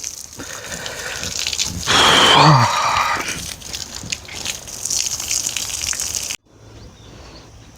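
Water is sprayed from a hose onto freshly built concrete to cure it, a steady gushing hiss with a louder splashing burst midway before it cuts off near the end.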